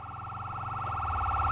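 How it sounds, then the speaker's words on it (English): A police car siren in LSPDFR for GTA V wails steadily with a rapid warbling tone, loud and close, holding for the whole moment without any talk. "Turn off our sirens."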